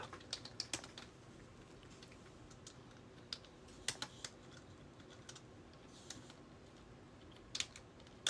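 Keys clatter on a computer keyboard in short, quiet bursts of typing, separated by long stretches of low background hiss.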